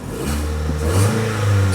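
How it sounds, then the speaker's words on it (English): Ford Fiesta engine running with the check engine light on, a close steady idle with a slight rev rise, no talking. "So I hope you can hear the engine running."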